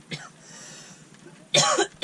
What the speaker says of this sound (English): making me cough a lot